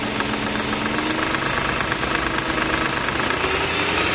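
BMW E53 with the M62B46 engine running with a rapid, steady knocking tapping over a continuous idle drone, close and loud throughout.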